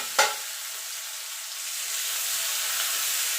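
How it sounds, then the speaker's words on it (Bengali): Chopped onion drops into hot oil with a sharp initial crackle, then settles into a steady, close sizzling hiss that continues alone. "এবার পেঁয়াজটা একটু লাল লাল করে ভেজে নেব"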